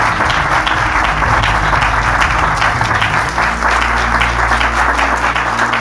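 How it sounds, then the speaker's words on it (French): An audience at a French-speaking Christian gathering applauds the speakers, a loud, sustained wall of clapping from many hands that runs evenly throughout with a low hum underneath. "On peut applaudir les différentes interventions"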